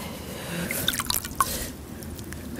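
Water used to wash a blackstrap molasses face mask off the skin: quiet, close dripping and splashing, a few bright drops over a soft wet background, with no talking.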